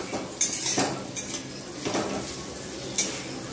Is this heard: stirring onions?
yes